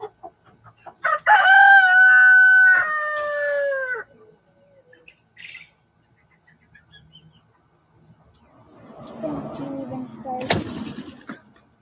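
A rooster on a farm lets out one loud, drawn-out crow near the start, then falls quiet apart from faint clucks before muffled voices and farmyard noise come in toward the end.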